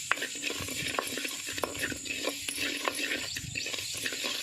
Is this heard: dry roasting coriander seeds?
yes